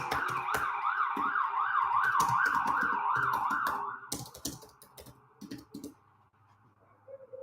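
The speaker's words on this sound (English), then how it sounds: "So I got a siren going off" A wailing siren rises and falls loudly for about four seconds, with clattering keyboard taps over it, then cuts off, leaving scattered clicks and low hum.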